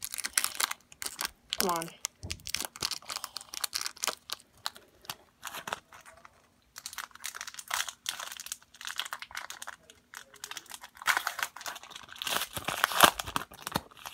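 Foil hockey card packs (Score, Parkhurst, Upper Deck) tear and crinkle open in repeated bursts of crisp ripping and rustling, close by. Someone speaks briefly between the packs.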